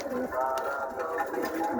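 Pigeons of fancy breeds, including Lambadi and Sri Lanka eye types, coo in a low steady murmur close by, with a continuous background hum through the short stretch.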